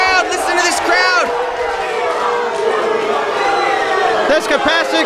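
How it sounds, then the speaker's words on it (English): A capacity crowd at a wrestling show in the Knights of Columbus Hall roars and cheers loudly and steadily, with whoops and yells rising through the din and a commentator's voice audible over it. "This capacity crowd here at the Knights of Columbus Hall voicing their opinion"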